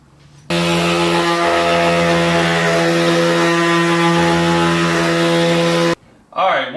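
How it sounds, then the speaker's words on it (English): A power sander with 220 grit paper runs on a butcher block countertop, a loud steady buzzing drone that starts abruptly, holds for about five seconds, then cuts off, followed by a brief voice. "once you've sanded it with the 220 grit, it should be pretty smooth to the touch"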